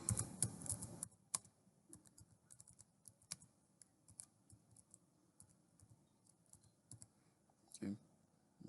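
A name is typed on a computer keyboard: faint, irregular key clicks in quick bursts with short pauses, one louder clack near the start and a brief thump toward the end, in a quiet room.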